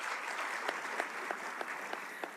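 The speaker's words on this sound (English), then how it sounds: "Please, another round of applause." Audience at the 3i Africa Summit applauding after a digital currency pilot announcement between Ghana and Rwanda: dense, steady clapping from a large crowd filling the hall, with a few sharper individual claps standing out, no voices over it.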